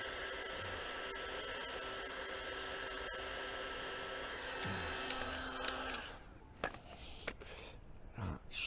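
A heat gun blowing steadily while heating plastic car trim on an estate car, a continuous whirring hiss for several seconds that then cuts off, leaving faint handling sounds.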